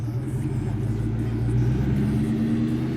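A Cobra car's engine drones with a deep, steady rumble while driving, swelling slightly midway as it's revved, loud and close with no clear talk over it.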